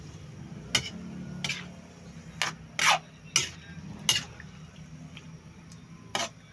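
String beans with squid and oyster sauce are stirred in a pot: a gentle bubbling simmer broken by about seven sharp scraping clinks of a utensil against the pot at irregular intervals.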